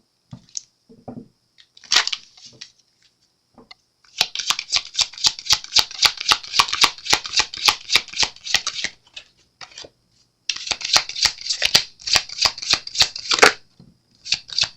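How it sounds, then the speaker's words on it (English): Tarot cards being shuffled in a long run of quick, crisp riffling flicks, loud and close, broken by short pauses, with no talking. "When I was shuffling the cards earlier"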